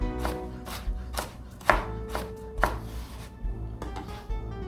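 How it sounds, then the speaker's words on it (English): A knife slicing vegetables thinly on the diagonal for a stir fry, sharp even chops on a cutting board at a steady pace, close and with no talk. "If you do an Asian stir fry, same thing, on the diagonal, but your cut's going to be thinner."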